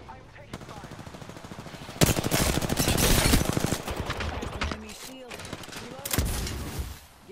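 Video game gunfire erupts in dense rapid bursts, a sustained automatic volley that swells loud mid-way then tapers, with a final burst near the end and a voice speaking underneath.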